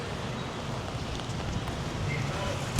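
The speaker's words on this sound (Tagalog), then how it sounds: "Ay, ang hangin." Steady broadband wind rushing and buffeting across the microphone, fairly loud and continuous, with no clear talking.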